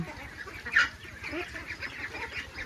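A few honking quacks from nearby ducks, one louder call standing out, over a low steady hum.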